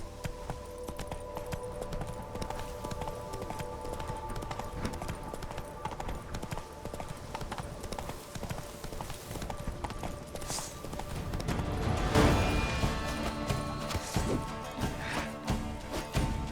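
Horse hooves clip-clopping at a steady gallop in The Witcher 3: Blood and Wine, a continuous rhythmic beat with a louder burst partway through, backed by low game ambience.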